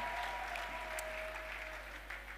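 A congregation at a church service applauds and cheers in praise, a steady wash of clapping that holds at an even level throughout, with no speech over it.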